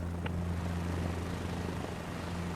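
A hovering helicopter in Microsoft Flight Simulator 2024 gives a steady low rotor drone with a constant hum, holding even and moderately loud throughout, no voices.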